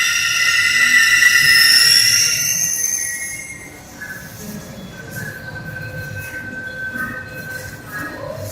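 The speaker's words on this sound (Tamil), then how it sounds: "நம்ம கிரீன் லைன் மெட்ரோ வந்துருச்சுங்க ஆர்வி ரோட்ல இருந்து மெஜஸ்டிக் போறதுக்கு" A Bangalore Green Line metro train runs near RV Road, its wheels squealing in a high whine that fades, leaving a steady rumbling hum with faint rhythmic clicks of the cars, heard close up.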